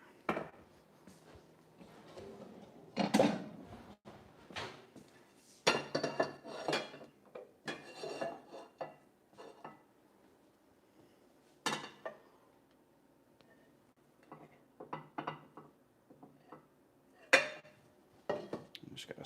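Sparse kitchen clinks and knocks of a pan and plate as a French omelette is rolled out and plated, with scattered sharp metallic and ceramic taps, quiet and close, separated by pauses.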